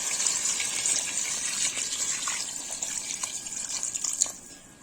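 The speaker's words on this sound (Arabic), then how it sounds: "هنا راح بعد اضيف له مي" Water poured into a cooking pot of bay leaves and chicken browned in oil, a steady gushing stream lasting several seconds before tapering off, moderately loud and close with no talk.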